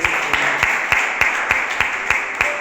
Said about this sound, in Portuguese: E se você crê, aplauda ao Senhor